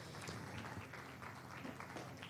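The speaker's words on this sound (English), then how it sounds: "Please keep clapping for them until they come here." An audience at a live summit event claps steadily, a dense wash of many hands heard at a faint, even level from a distance.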